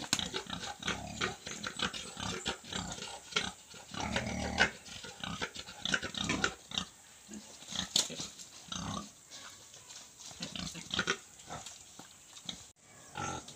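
Native pigs on a farm, a boar mating with a sow, give off repeated grunts and squeals in bursts throughout, close and fairly loud with scuffling between calls.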